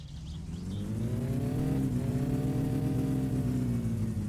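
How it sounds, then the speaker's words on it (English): Simulated car engine in the driving game My Summer Car held at high, over-revved RPM, a loud steady drone with a slight rise and dip in pitch, continuous throughout with no talking. "I'm really over revving it here"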